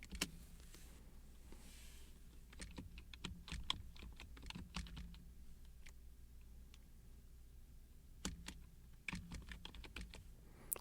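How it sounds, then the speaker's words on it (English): Fingers typing text on a computer keyboard, irregular quiet clicks in quick runs with a few short pauses, close and alone with no talk. "I'm going to type my text"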